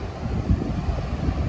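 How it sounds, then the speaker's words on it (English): Steady coastal wind at Newgale beach, Pembrokeshire, buffets the microphone with low rumbling gusts, continuous and close, with no other clear sounds. "Still a little bit windy,"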